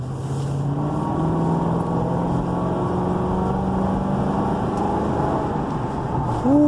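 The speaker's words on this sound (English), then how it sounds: "ooh, I like that sound of the motor." A Ford Crown Victoria Police Interceptor engine runs steadily with a low, droning hum and a few shifting tones, close and continuous without speech.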